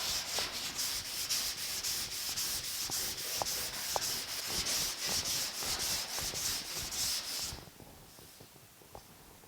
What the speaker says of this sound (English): I had about another 10 minutes of sanding on here